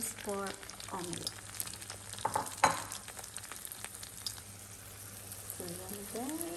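Thai minced pork omelette mixture frying in a pan after browned garlic, a steady sizzle running throughout with scraping stir sounds and brief clatter near the middle, while a voice talks over parts of it.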